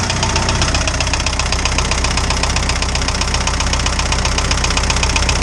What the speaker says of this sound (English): these motors are so noisy